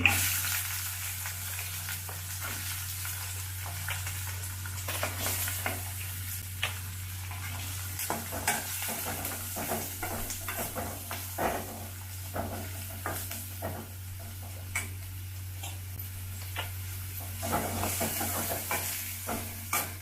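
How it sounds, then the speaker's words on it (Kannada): Onions frying in hot oil for North Karnataka ridge gourd palya, a soft continuous sizzle broken by repeated scraping and clinking stirs of a spoon against the pan over a low steady hum, no talking. "ಆಮೇಲೆ ಈರುಳ್ಳಿ ಹಾಕ್ತಾ ಇದೀನಿ ಇದಕ್ಕೆ."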